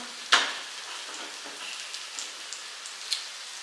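Food simmering in a pan, a soft steady sizzle and crackle with occasional small pops, close and quiet, no voices.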